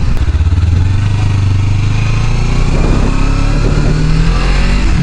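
A 300 motorcycle engine heard while riding, a loud, close, continuous drone that climbs steadily in pitch as it accelerates, with no talking.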